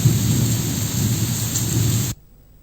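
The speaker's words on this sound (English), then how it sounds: "The last sound was there, the rain and thunder." Heavy rain pours in a dense, loud hiss with a deep thunder rumble beneath, continuing steadily before cutting off abruptly into near silence.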